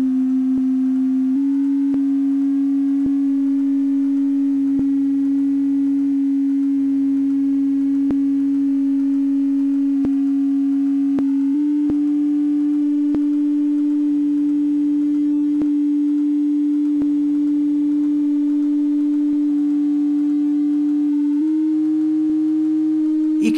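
Singing processed by real-time Arduino autotune comes out as a buzzy, synthetic tone that holds steady pitches and steps between notes, continuous and close, with no natural voice character.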